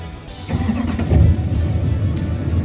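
A Duramax diesel truck engine cranks and catches, its low rumble building abruptly after a brief starter whir and then settling into a steady, close idle.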